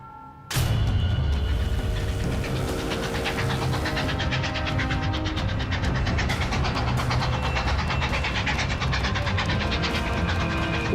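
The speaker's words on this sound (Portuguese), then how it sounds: "Um trem de carga corre em direção ao sul" A freight train heading south rumbles past, a loud continuous roar with clattering wheels and rattling cars that starts abruptly and holds steady to the end.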